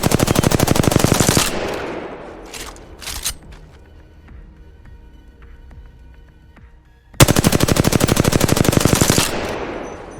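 R-301 carbine rifle in the Apex Legends video game firing two loud, rapid full-auto bursts about two seconds each, separated by a few single shots and a quiet stretch with faint mechanical game sounds.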